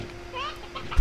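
Chickens squawking inside the Slime Rancher video game, a short warbling bird call rising in pitch near the middle of a one-second stretch, with a steady electronic hum underneath and a low thump at the end.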